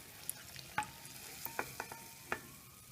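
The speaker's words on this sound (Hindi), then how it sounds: "अब हम इसमें सारे गुलाब जामुन डालकर तलेंगे।" Gulab jamun frying in hot ghee in a pan, a soft continuous sizzle broken by several sharp clinks and scrapes of a spoon stirring, close and without speech.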